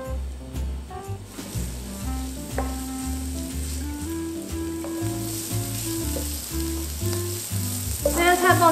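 Preserved radish stir-fried in sesame oil in a frying pan gives a steady, close sizzle with occasional stirring scrapes, partly masked by continuous background music.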